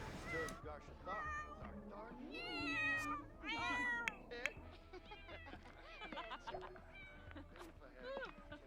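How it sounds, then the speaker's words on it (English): Cats meow repeatedly in The Sims 4 while running a cat cafe, a string of varied, high, wavering calls, some drawn out and overlapping, close and clear. "hopefully the cats start coming out here, because that's kind of the point"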